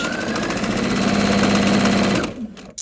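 Sewing machine running steadily as it stitches a scant quarter-inch seam through quilt-block fabric, a close, continuous motor whir with rapid needle chatter that stops abruptly near the end, leaving a few faint handling noises.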